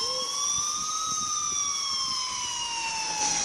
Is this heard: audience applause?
no